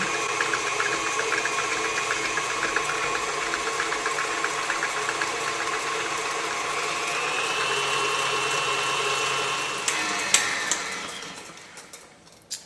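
An electric mixer runs at medium speed, beating eggs into a low-carb ricotta blueberry cake batter. The motor gives a steady, close whirring hum, then a few sharp clatters as it winds down near the end.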